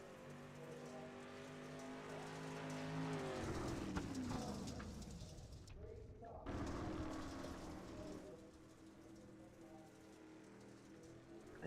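A race car engine drones through a qualifying lap in iRacing, its note rising and then sweeping sharply downward before settling into a rougher, noisier roar, with a voice talking over it.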